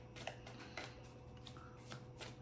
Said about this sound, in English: I'm gonna shuffle them a little bit,